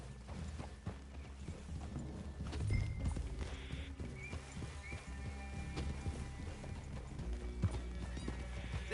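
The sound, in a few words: horse hooves clip-clop in video game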